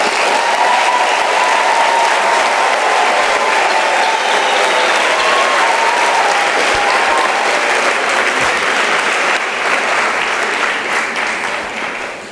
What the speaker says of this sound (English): the graduates deserve a thunderous round of applause